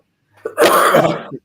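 A single sharp sneeze bursts out close to the microphone, brief and loud, between stretches of football match chat.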